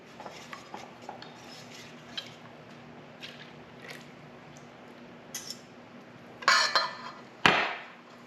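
Eggs, oil and milk stirred into a friendship bread starter in a bowl: soft wet sloshing with scattered utensil clinks, then a few louder knocks against the dish near the end.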